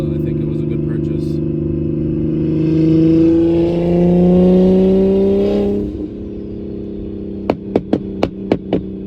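A BMW 335i fitted to shoot flames revs hard close by, its engine note climbing and swelling for several seconds before dropping off, followed by a quick string of sharp exhaust pops.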